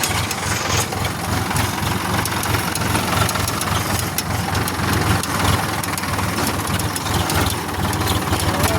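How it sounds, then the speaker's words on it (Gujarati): A tractor engine runs loud and close with a steady low throbbing idle and a knocking chug that holds constant throughout, with no speech over it. "જો મિત્રો આપણે ટ્રેક્ટર લઈને આવી જાય છીએ હવે ઘેર વાળામાં."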